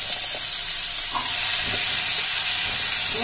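Potatoes and green chillies tossed into a pan with softened salted onions sizzle and hiss steadily and loudly, with faint clinks of stirring under the constant frying noise.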